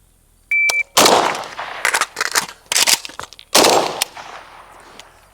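An AK rifle fires during a reload drill: a short electronic beep, then a sharp loud shot, a quick clatter of handling, and another loud shot, outdoors and close.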